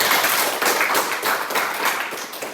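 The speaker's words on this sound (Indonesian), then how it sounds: "Aplaus untuk Saskia" Classroom applause for a student named Saskia, a brisk burst of many hands clapping close and loud, fading slightly toward the end.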